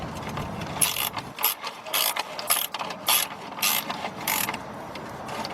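Ratchet with a 15 mm socket working on the starter of a 1990 Buick LeSabre Custom 3.8, a series of quick clicking ratchet bursts in an irregular rhythm, close and fairly quiet.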